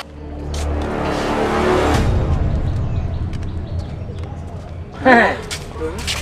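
A cartoon car revs its engine at the start of a race in a children's animated fairy tale, a steady motor drone under lively character voices with music-like effects near the end.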